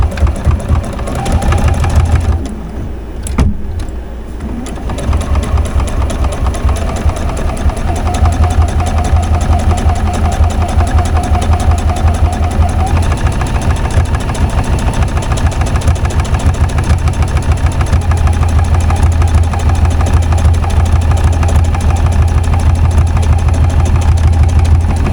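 Sewing machine stitching a handmade item, a fast steady mechanical whirr running almost continuously and loud and close, with a brief pause near the start.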